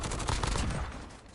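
Rapid automatic gunfire from a Warzone match rattles up close and loud, a dense burst of repeated shots that tapers off toward the end, with no voices over it.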